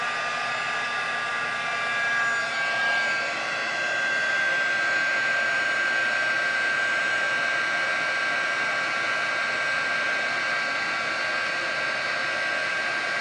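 A heat tool heat-setting alcohol ink on a heavy metal piece blows with a steady, loud whooshing roar for the whole stretch, with no talking.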